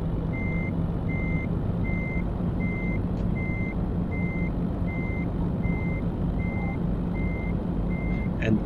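A reversing alarm on a truck in a truck-driving simulator game beeps in a steady, evenly spaced series of about a dozen tones over a low, constant engine idle.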